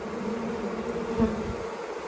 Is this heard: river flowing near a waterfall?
no